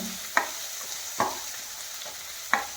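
Onions for oats upma sizzle gently in a pan under a steady soft hiss, with three sharp spatula scrapes spaced about a second apart.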